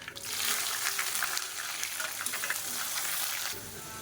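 Chopped small onions and a large onion with salt frying in hot oil in a pan for a Tamil fish curry (meen kuzhambu), giving a steady close sizzle and hiss that eases slightly near the end.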